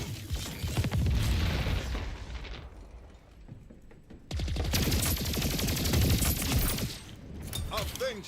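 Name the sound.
submachine gun fire in the video game Splitgate 2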